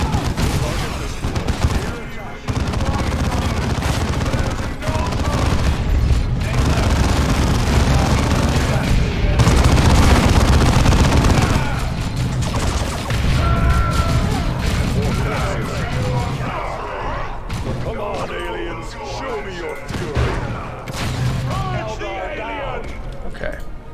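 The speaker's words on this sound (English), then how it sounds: "that huge artillery attack that I don't know where it's coming from" Dense artillery barrage and gunfire in the Warhammer 40k game Dawn of War II, with continuous loud booms, explosions and rattling shots filling the scene as someone talks over the battle.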